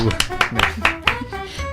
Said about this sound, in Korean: 박수 한번 칠까요? 박수.